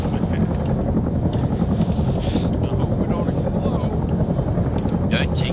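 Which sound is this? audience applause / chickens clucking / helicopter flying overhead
helicopter flying overhead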